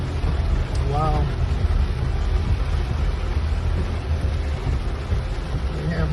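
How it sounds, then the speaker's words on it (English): Heavy rain in the Philippines pours down around a moving vehicle, a dense steady roar of water and road noise that fills the whole stretch, with a brief voice near the start. "We have heavy rain in the Philippines, y'all."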